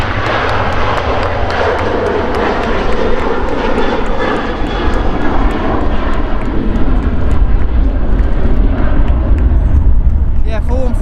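Airliner on a Malaga flight at Manchester Airport, its jet engines roaring loud and continuous as it passes, with people chatting nearby under the din.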